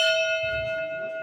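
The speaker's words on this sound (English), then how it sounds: "Bell ringer, please strike a toll for the following boats." A single memorial bell toll rung at a submarine remembrance meeting, a clear ringing strike with a long, steady sustained hum that slowly fades, alone and close.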